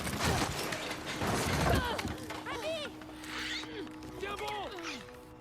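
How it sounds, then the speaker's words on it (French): Infected clicker enemies in the video game The Last of Us Part 2 give rapid, rattling clicks and creaks mixed with chaotic combat noise and game effects, while someone talks over them. "Oh, des claqueurs, non."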